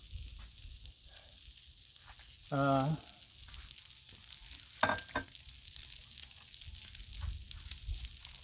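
Sliced bacon pieces cooking on a Blackstone griddle give a steady low sizzle throughout, with a couple of brief louder clatters from handling over the faint frying.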